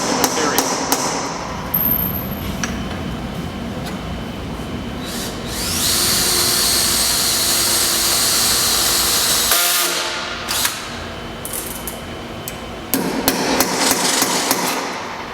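A center punch is hammered into a steel skid plate for a 2015 Honda Pioneer 500, sharp metallic taps near the start and end around a longer stretch of hissing tool noise, with a voice speaking briefly.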